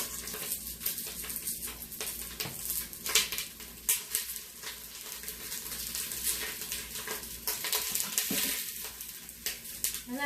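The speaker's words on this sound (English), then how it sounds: "I know you can hear that sizzling." Sausages sizzling steadily in a hot quick cooker, a continuous crackling hiss with occasional stirring and scraping sounds.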